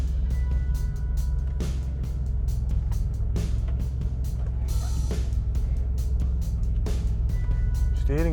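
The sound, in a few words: Saab 900 SE car engine while reversing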